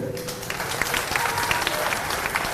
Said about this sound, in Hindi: जोरदार तालियां आपको उन दोनों के लिए बनानी है